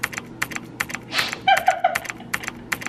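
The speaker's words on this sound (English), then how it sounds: "Guys, typing with your feet." Someone types on a computer keyboard with their feet, producing irregular bursts of clicky keystrokes with short pauses between them, close and fairly loud, heard alone.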